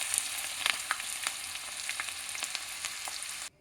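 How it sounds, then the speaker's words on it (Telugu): Green chillies sizzle and crackle steadily in hot oil in a pan, a close, continuous frying hiss with small pops, cut off abruptly at the end. "ఇలా వేయించుకొని తీసుకోవాలన్నమాట"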